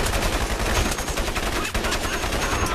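Sustained automatic weapon fire in Crysis, pushed until the gun overheats, rattles continuously and loudly for nearly three seconds with only a brief dip near the end.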